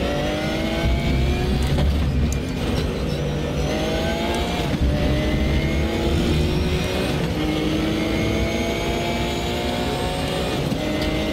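Loud, continuous engine roar of a RUF RT12R GTR3 race car at Imola in the RaceRoom racing game, pitch rising and falling through repeated gear shifts and revving with no talking.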